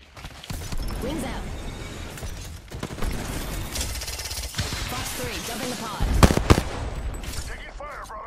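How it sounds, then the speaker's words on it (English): Rapid bursts of video game gunfire crackle almost continuously, with a heavier cluster of shots near the end, while someone talks over the action. "Man, this guy is shooting me up"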